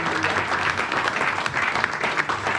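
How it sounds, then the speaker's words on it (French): Congregation in a church applauding together, a dense continuous clatter of many hands clapping at once, loud and close, with no voices standing out above it. "On applaudit pour les rois des rois."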